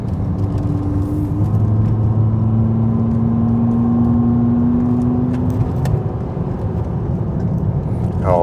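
A Volvo S80 five-cylinder engine pulls and revs inside a moving car, a low steady drone with a rising tone, while a person talks over it and a brief whine appears near the end.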